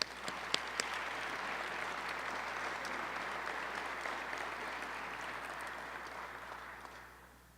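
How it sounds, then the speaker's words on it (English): An audience at an outdoor street-naming ceremony applauds athletics department staff. The clapping is steady and moderately distant, holds evenly throughout, and tapers off at the end. "Please give them a round of applause."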